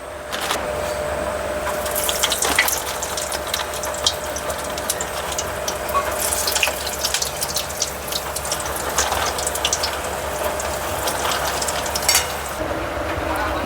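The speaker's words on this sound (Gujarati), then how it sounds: "તો ચાલો આને ફ્રાય કરીએ." McCain smiley potato snacks frying in hot oil, a loud continuous bubbling sizzle with watery crackle throughout, close by and steady, no talking.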